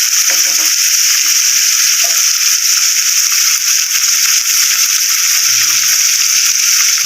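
Chicken frying in a pan gives a steady, bright sizzle throughout, with a few faint clinks and rattles of the pan underneath.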